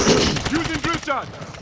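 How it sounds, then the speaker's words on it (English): Rapid automatic gunfire rattles in quick bursts in the video game Warzone 2, mixed with game effects and partly overlapped by a voice. "They're shooting at me!"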